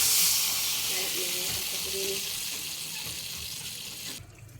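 Water pours into a cooking pot for a milkfish and fermented shrimp paste broth, a steady close rushing hiss that runs for about four seconds and then cuts off abruptly.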